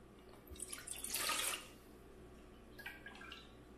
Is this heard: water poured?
yes